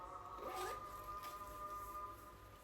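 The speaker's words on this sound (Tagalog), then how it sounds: "Meron siyang zipper, back pocket zipper." Zipper on the back pocket of a Bentgo kids' lunch bag, a short close rasping pull followed by a second brief zip, quiet over a steady background hum.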